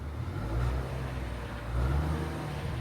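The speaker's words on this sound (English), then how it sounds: "Give it a little rev" A Land Rover Defender 90 L663 with the P400 engine and a cylinder misfire idles and is given two short revs that swell and fall back, heard close and alone.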